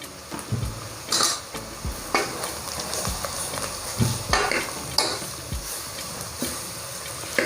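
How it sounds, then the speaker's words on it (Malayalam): Chopped tomatoes frying in a pan for a brinjal-potato curry, stirred with a spoon that knocks and scrapes against the metal in repeated strokes over a steady sizzle, close and fairly loud, with no talking. "നമ്മൾ കട്ട് ചെയ്ത് വെച്ചിരിക്കുന്ന തക്കാളി ഇട്ട് കൊടുക്കാം"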